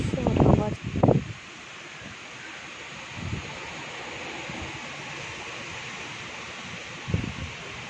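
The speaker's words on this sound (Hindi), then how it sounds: "अभी बहुत ज़्यादा बारिश और हवा चल रही है।" Heavy rain and wind at night during a hurricane in Florida, a steady broad roar of wind-driven rain with brief gusts and rustling, and a few short bursts of voice near the start and end.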